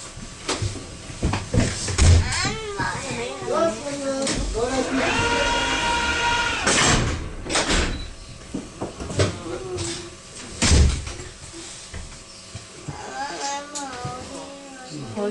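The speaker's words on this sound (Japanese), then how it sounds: "ドアが閉まります。" Doors of the Hakone cable car on the Sounzan to Gora line slide and bump shut amid station announcements, tonal chimes and passenger chatter, with a couple of louder thuds.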